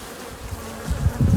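Honeybees buzz steadily during a production beehive inspection, the hum swelling louder and closer toward the end as the insects move near.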